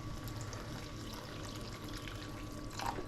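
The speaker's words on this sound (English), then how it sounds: "just add a bit more water" Water poured from a tap into a pot of soup in a home kitchen, a faint, continuous splashing wash that runs steadily throughout, quiet and unaccompanied by talk.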